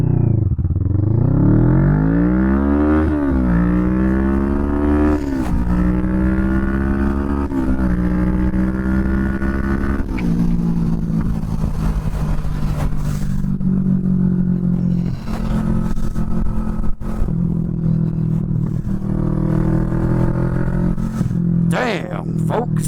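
A Kawasaki Vulcan S 650 cruiser motorcycle accelerates hard from a standstill, its engine note climbing steeply through the gears with shifts along the way, loud and close, then settling into a steady drone at speed with a voice talking over it.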